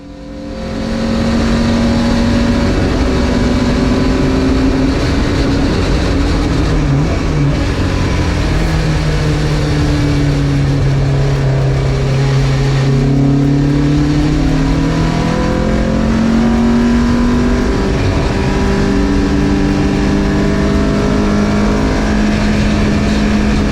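Marcos race car at full throttle on the Donington circuit while chasing a black MG, with a loud, steady engine drone rising and falling in pitch through gear changes and continuing throughout.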